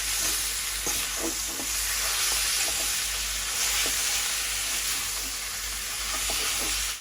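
Meat stirred in a hot frying pan, a loud continuous sizzle with repeated scraping stirs of a spoon close by, steady throughout with no voices.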